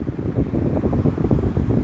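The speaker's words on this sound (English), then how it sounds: "It's windy." Cold, wet wind outdoors buffets the microphone in loud, gusty low rumbles that rise and fall for a couple of seconds, with no voices.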